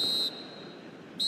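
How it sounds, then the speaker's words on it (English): A referee's whistle at a football match blows for half-time in two shrill blasts, one at the start and one at the end, with a quieter stretch of crowd noise between them. "And the whistle goes for half-time."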